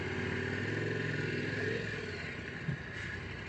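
An adventure motorcycle rides over logs, its engine droning steadily at moderate distance with a low, pulsing exhaust tone and a brief knock near the end, with no talk.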